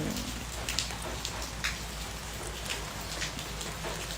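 Rain falls steadily outdoors beside a garden plot near a road, a dense even hiss with occasional brighter drips landing close by, with no voices.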